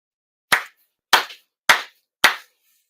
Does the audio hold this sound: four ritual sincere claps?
yes